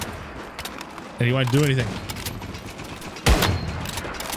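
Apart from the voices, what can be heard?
gunshots in the video game Once Human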